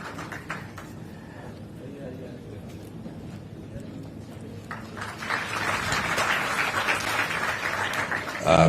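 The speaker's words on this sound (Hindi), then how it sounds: "जोरदार तालियां आप सबकी तरफ से।" A crowd at an award ceremony for UPSC and IIT-JEE qualifiers breaks into applause, starting faint and swelling into steady, sustained clapping that fills the room.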